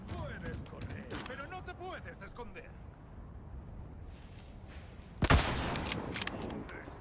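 An AWP sniper rifle in a video game fires a single loud, sharp shot late on, cutting through busy game noise and mechanical clatter, with a voice talking earlier.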